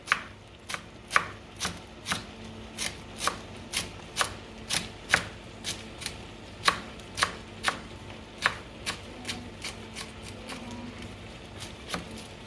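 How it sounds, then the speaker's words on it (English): A knife chops parsley on a cutting board for a dressing. The sharp, close strokes come one after another in a steady rhythm, about two per second, with no other sound. "So I just chop them together like that."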